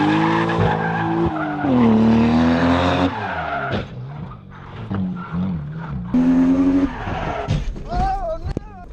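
A Lexus SC300 drifts at the Willow Springs track, its engine revving hard and swooping in pitch while the tires squeal and skid, loud and close throughout.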